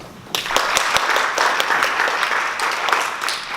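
An audience at an organic agriculture symposium greets a speaker with applause, starting with a few sharp individual claps that swell into a sustained, fairly close round of clapping.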